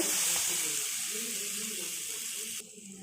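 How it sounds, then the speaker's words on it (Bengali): Water poured into a pan of spiced potato and onion fish curry makes a steady, soft hissing rush that fades slightly and cuts off near the end, with a quiet voice faintly underneath. "এর মধ্যে আমি পরিমাণ মতো জল দিয়ে দিচ্ছি"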